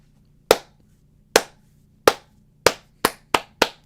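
Eight sharp, isolated claps ring out against a quiet background, slow and evenly spaced at first and then coming quicker toward the end.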